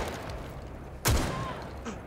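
A single sharp, loud shot in Rainbow Six Siege cracks out midway through quiet game ambience, then decays into a fading rumble, with a faint softer report following just after.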